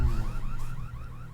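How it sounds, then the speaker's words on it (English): An alarm goes off in the video game There Is No Game: Wrong Dimension, a loud buzzing low tone with a rising, warbling pattern above it, heard alone in a short burst. "Oh, he's got an alarm."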